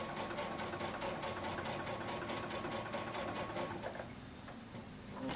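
Sewing machine stitching down fabric, running steadily with a fast, even needle rhythm for about four seconds before slowing and pausing, close and loud with no talk over it.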